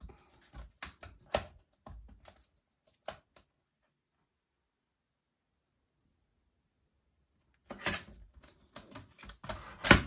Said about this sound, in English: Love the new personal photo trimmer.